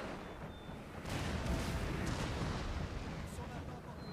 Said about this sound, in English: Oh, beautiful cannon work, gentlemen. Beautiful cannon work.